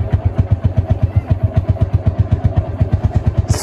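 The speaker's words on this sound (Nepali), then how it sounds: "फाइनली मेरो बाइक स्टार्ट भइसक्यो" A motorcycle engine idles close by right after starting, a loud, rapid, even thumping pulse that keeps a steady rhythm throughout, with no one speaking.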